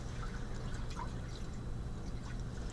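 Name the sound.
water draining out of a water filter assembly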